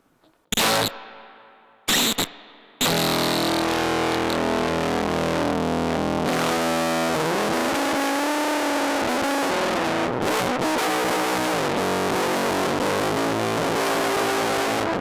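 Electric guitar through a Death by Audio Octave Clang V2 octave fuzz pedal with all knobs maxed: two short, harsh stabs, then a loud, saturated wall of distorted tone that holds and wavers steadily.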